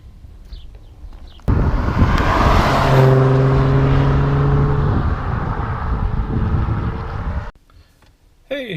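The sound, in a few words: 2016 Jaguar F-Type supercharged car driving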